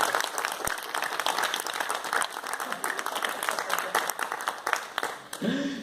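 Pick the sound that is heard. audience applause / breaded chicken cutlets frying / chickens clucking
audience applause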